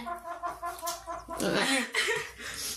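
Chickens clucking close by, a short run of uneven calls with a louder burst in the middle.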